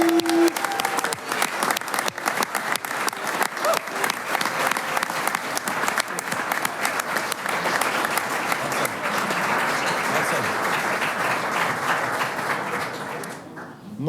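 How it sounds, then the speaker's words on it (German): An audience at an outdoor Swiss folk music choir performance on a farm claps in sustained, dense applause that carries on steadily for over ten seconds before fading at the end. "Ich glaube, ein grosser Applaus wert."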